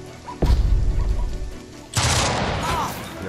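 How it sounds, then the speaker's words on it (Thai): Gunfire in the Jagged Alliance 3 video game arrives as two loud, close bursts, the first sharp volley trailing off before a second heavy burst follows and lingers. "เฮ้ยยิงเลย"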